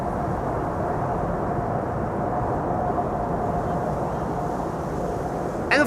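Airliner thrust reversers roaring on landing at Schiphol's Kaagbaan runway, a loud, steady, broad rumbling jet roar held throughout from a moderate distance.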